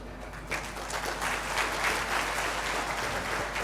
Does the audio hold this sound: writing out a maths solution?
no